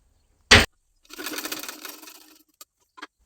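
A sewing machine stitches a folded half-inch blouse hem in one short burst of quick, close needle chatter lasting about a second. It comes after a sharp click and is followed by a couple of faint taps.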